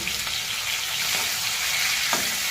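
Pieces of fish head and belly fry in hot oil with a steady, bright sizzle, broken by a few light scrapes and clicks from stirring close by.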